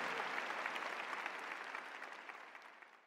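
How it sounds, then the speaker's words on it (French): In a large arena at a Bible study gathering, a big crowd applauds, a wide wash of distant clapping that slowly tapers off toward the end. "Un applaudissement pour nos frères de Suacha Compartir"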